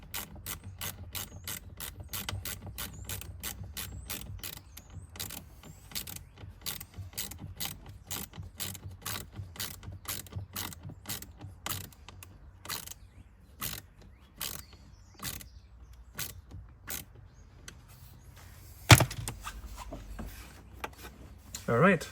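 A blend door actuator being screwed into a Jeep Grand Cherokee WK: a long, steady run of close, rapid ratcheting clicks, thinning out to sparser clicks later, with a louder clunk near the end.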